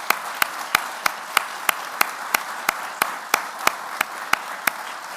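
Applause for elected officials at a 30th-anniversary celebration, with a rhythmic, evenly paced clap standing out above a softer wash of many hands clapping throughout.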